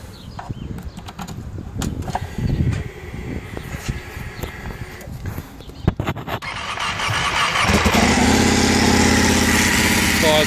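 A damaged Ducati 899 Panigale sport motorcycle, a repairable write-off, cranks and fires up, its engine catching after several seconds of clattering, then settling into a loud, steady, rough-edged idle up close.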